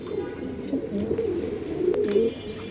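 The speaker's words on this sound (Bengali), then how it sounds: "ডার্ক ইয়েলো কালারের ডেনিশ কবুতর, যেটা পাকিস্তানের র ব্রিড" A dark yellow Danish pigeon of a Pakistani breed coos softly and steadily at a pigeon farm, low murmuring calls running continuously with no talking.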